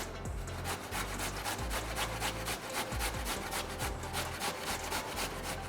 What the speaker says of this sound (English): grab your grater and grate